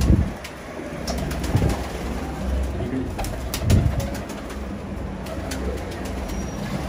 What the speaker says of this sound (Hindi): परवाजी कबूतर हैं ज़्यादा जोड़ों वाले